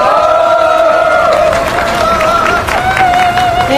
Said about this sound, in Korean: 힘찬 박수로 모시도록 하겠습니다.